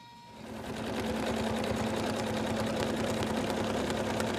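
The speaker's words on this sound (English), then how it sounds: "we're now going to put black fabric on top." Embroidery machine stitching a layer of black fabric in place, starting up and settling into a loud, steady, fast mechanical whirr with a rapid needle pulse that continues without a break.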